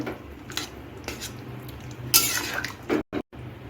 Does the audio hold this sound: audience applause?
no